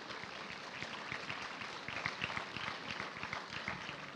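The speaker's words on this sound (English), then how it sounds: "let us give a round of applause to the graduates who have just been presented" A crowd at a University of London graduation ceremony applauds the newly presented graduates, with dense, steady clapping filling the hall throughout.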